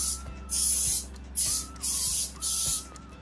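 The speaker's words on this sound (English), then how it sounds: "we want to spray all of the glue board so that it will not be sticky anymore" Oil sprays onto a glue board trap in four short hissing bursts, each lasting about half a second, with a steady low hum underneath.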